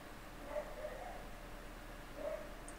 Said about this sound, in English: The garbage man comes, my dog barks like crazy.